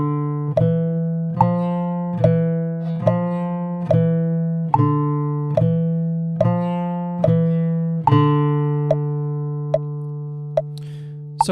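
A classical guitar plays a beginner fingerstyle exercise as a steady, evenly spaced run of plucked bass notes with sustained ringing tones, close and clear with no talking.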